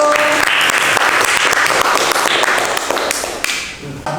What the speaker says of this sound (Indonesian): Beri tepuk tangan dulu untuk Mas Dio